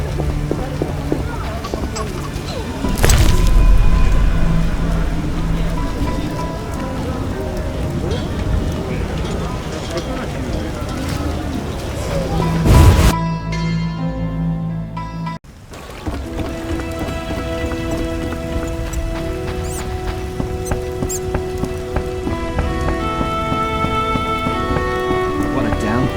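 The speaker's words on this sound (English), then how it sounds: "What a downpour." Steady heavy rain pours down in The Witcher video game, a dense hiss running throughout with a brief lull near the middle, while voices talk over it and music plays.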